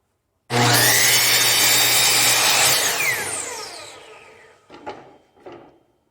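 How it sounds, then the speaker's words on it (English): A saw cuts through a wooden board, a loud continuous rasp for about two seconds that fades as the cut ends, followed by two short knocks of wood. "So we're going to give this a try, cut a couple boards."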